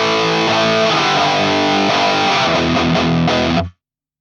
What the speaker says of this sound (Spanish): solamente subí el gain para aprovechar el sonido clásico de la distorsión del Marshall